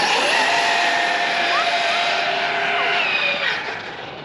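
A Redcat Machete 6S RC car screams past at high speed, a loud high-pitched whine with a brief Doppler drop near the end, then fading away.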